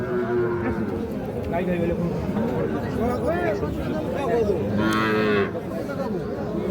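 Cattle, including crossbred heifer and bull calves, moo repeatedly amid a busy, noisy market at Ambari, with people chattering and talking nearby throughout.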